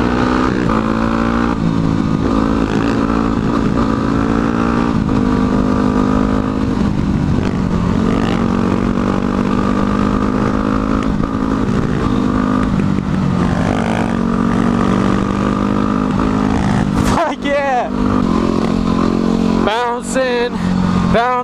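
A motorcycle engine drones loudly on the street while the rider pulls a wheelie, its pitch climbing and falling through rev changes, with sharp throttle bursts near the end.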